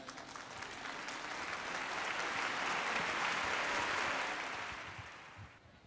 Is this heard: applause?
yes